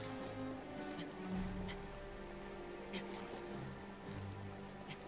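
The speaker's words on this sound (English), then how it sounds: "Fuck, of course it's raining." Rain falling in the open-world game Zelda: Breath of the Wild, a steady faint patter spread evenly throughout under a low game hum, with no talk.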